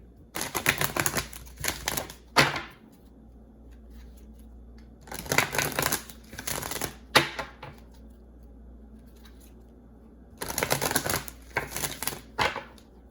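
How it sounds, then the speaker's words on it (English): Tarot cards shuffled in three separate bursts, each a brisk, close flurry of papery riffling and slapping that ends in a sharper snap, with near-silent pauses between. "I'm going to get a couple more cards here"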